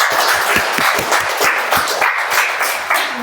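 Audience applause for a Toastmaster at a club meeting, a steady, fairly loud wash of many hands with distinct individual claps pulsing through it, continuous for the whole stretch.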